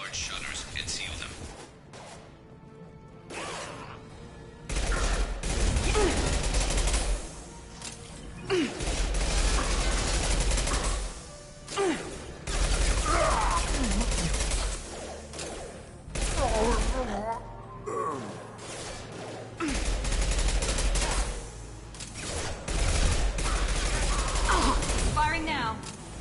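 Heavy gunfire fills a Mass Effect 2 battle, with dense bursts and rapid automatic fire rolling on almost continuously and only brief lulls between barrages, loud and close. Game dialogue and mechanical sounds run faintly beneath the shooting.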